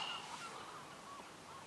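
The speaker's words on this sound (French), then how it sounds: "Oh, les mouettes." Seagulls call faintly over a steady background hiss beside a lake, with a few short, thin cries scattered across the moment and no talking.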